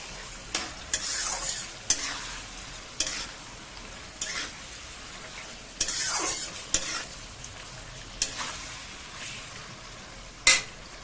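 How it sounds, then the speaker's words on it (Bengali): Onion and chicken sizzle in a hot pan while a spatula scrapes and stirs in repeated strokes, roughly one every second, with no talking. "এটাকে ভালো করে নাড়াচাড়া করবো ভাজা ভাজা করবো পেঁয়াজ আর চিকেনটাকে"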